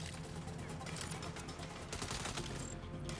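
Continuous gunfire in the video game Saints Row, a dense crackling fusillade of rapid shots sustained throughout, loud and close, with no clear gaps.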